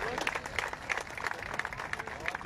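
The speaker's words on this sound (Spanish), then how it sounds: "Fuerte el aplauso para todos ustedes." An audience at a public security strategy presentation in Villa de Álvarez applauds, fairly faint and distant clapping with a voice talking over it.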